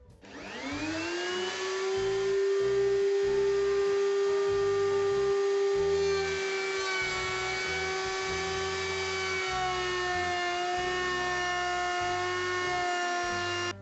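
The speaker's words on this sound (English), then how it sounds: "I'm going to use the router in the router table just to take the edge off and give us a finish that we quite like." A router mounted in a router table cuts the edges of floorboards, giving a loud, steady high whine that runs unbroken for about fourteen seconds, with a slight pitch shift partway through and a low rumble beneath.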